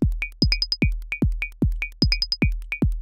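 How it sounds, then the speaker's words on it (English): A synthesized trance beat built in SuperCollider: deep, booming kicks pulse steadily, overlaid with short bright synth blips in a syncopated clave-like pattern, repeating cleanly with no other sounds. "I'll paste in a synthesized kick."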